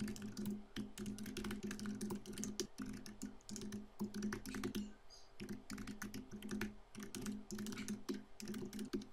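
Fast, steady typing on a computer keyboard while entering code, with dense close key clicks and a brief pause midway over a low background hum.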